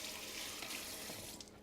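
Tap water runs steadily into a sink to cool a freshly glued arrow shaft tip, a continuous close hiss and splash with no speech.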